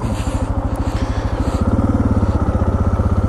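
Suzuki DR dual-sport motorcycle engine running steadily under the rider, a close, continuous low pulsing thrum with a regular firing beat that firms up slightly halfway through, with wind noise around it.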